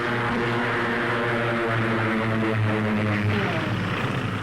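A WWII fixed-wing aircraft flies in for an airstrike on enemy tanks near Elst in 1944, a steady loud propeller-engine drone with layered harmonics that holds throughout, wavering slightly in pitch toward the end.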